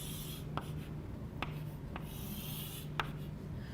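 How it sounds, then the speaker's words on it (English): A pen drawing a straight line on paper while working a linear programming graph, a soft steady scratching with a few faint taps, quiet and close against a low hum, no voices. "Draw this straight line."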